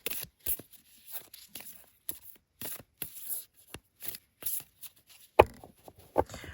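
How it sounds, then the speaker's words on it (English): Stranger Things tarot cards being shuffled by hand in bursts of riffling and flicking, short papery clusters separated by pauses, close and fairly quiet with one sharper snap near the end. "Now let's give it another sort of attempt at a shuffle."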